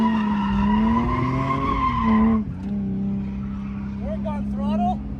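A BMW E36 at a drift event, its engine droning with a steady rising and falling pitch as the tires squeal, followed by a shifting note and brief vocal sounds near the end.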